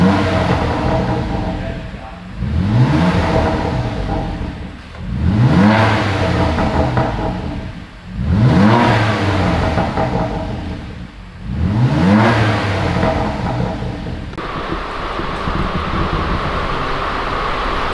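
A BMW M4 with its stock exhaust before decats revs repeatedly, four strong rising blips spaced a few seconds apart, close and loud, settling to a steady idle hum at the end.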